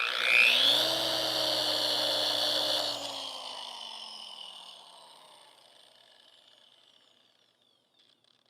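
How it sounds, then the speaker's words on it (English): Car polisher spinning up with a high whirring whine, running steadily for about three seconds and then winding down slowly into silence. "I'm gonna have to call this polisher Jamal. Look, hear this out"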